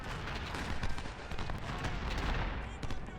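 Scattered gunfire potshots in a strategy video game pop as quick, fairly faint cracks against a low battle rumble, with a few bursts spaced irregularly.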